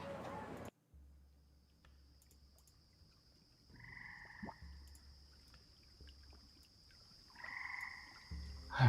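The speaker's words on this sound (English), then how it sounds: "a discordant symphony of croaking frogs and singing birds" Frogs croak in a swamp at a moderate distance, in two short croaking bursts over a steady low rumble and a thin high whine, with no voices in between.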